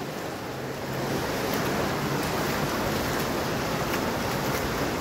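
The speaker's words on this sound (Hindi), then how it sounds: "वो पानी यहाँ से ये बह रहा है, फिर निकल रहा है।" Water seeping from rock and running off in a steady stream at the Mola Hatachi picnic spot near Khuzdar, a continuous broadband rushing wash that holds loud throughout with no voices.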